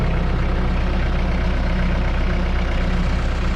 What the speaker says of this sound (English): I got a tractor to push it down